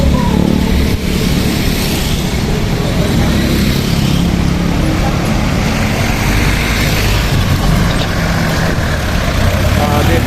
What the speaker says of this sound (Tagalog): Dito maraming mga jeep naman na dumadaan dito.